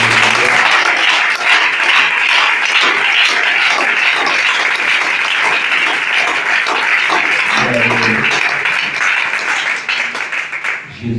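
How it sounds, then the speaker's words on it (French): A church congregation applauds loudly and steadily, dense clapping filling the space for about eleven seconds with a few voices and cheers mixed in, thinning slightly toward the end. "Je veux qu'on acclame pour elle"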